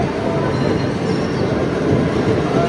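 A long-distance passenger train on the Mumbai to Jaipur run, a loud, steady rumble of wheels and carriage with constant rattling, heard from inside near the noise, without any voices.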